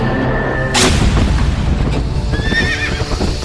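A horse neighs loudly in a dramatic apocalyptic scene of the four horsemen, a sharp whinny over rumbling booms and hoofbeats, with no talking.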